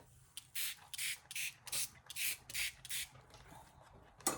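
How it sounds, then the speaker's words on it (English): A spray bottle spritzes water in a quick, regular run of about nine short bursts, close and fairly quiet, with no talking. "Spritz some water."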